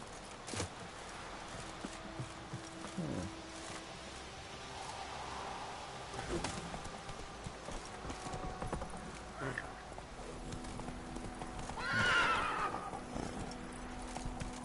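Roach the horse in The Witcher 3 clip-clops along with hoofbeats in steady rhythm, then gives a clear neigh near the end, close and moderately loud while a voice talks over the hooves.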